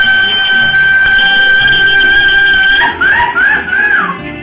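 A human voice imitates a mariachi grito at a Charro Days sombrero festival, giving a few rising, warbling high yelps near the end over a steady background hum.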